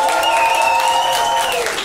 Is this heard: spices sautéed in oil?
no